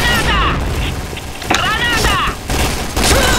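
A grenade going off in the Point Blank online shooter, heard as a couple of abrupt booming bursts mixed with gunfire-like crackle, with game sound effects and some voice chatter around them.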